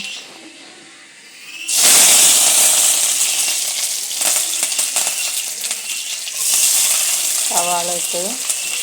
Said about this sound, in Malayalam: കടുക് പൊട്ടിയതിന് ശേഷം കറിവേപ്പില ഇട്ട് കൊടുക്കട്ടെ